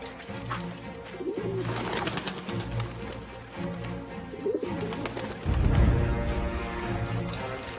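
Pigeons coo repeatedly in a low, soft rhythm through a continuous rustling background, with a louder, fuller burst of sound near the end.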